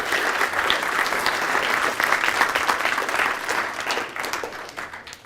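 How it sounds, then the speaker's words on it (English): An audience in a seminar room applauds steadily, a dense, continuous wash of clapping from many hands that holds strong throughout and tapers slightly at the end. "can you give the people standing up in the front of the room a round of applause"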